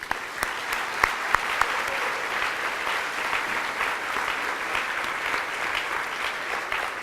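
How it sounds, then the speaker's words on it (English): Sustained applause for volunteers at a 25th anniversary charity breakfast: a dense, even patter of many hands clapping at moderate loudness for about seven seconds, with a few sharper individual claps near the start and no talking over it. "Please join me in giving these volunteers a big round of applause."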